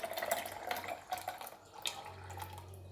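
Water runs into a mixer jar holding ash gourd juice, a steady, soft, close splashing pour with a faint low hum beneath and no voices.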